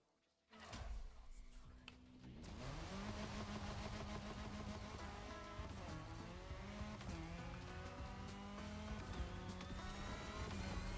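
A car in The Crew Motorfest starts up after a brief quiet moment, then drives on with a steady engine drone, rising and shifting tones, and occasional tire noise, continuing loud and close throughout.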